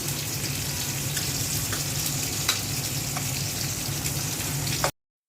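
Fish fries in oil with a steady, moderately loud sizzle and occasional small pops, then cuts off sharply.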